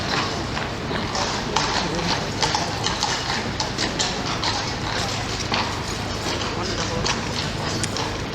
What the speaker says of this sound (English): He's a lovely horse.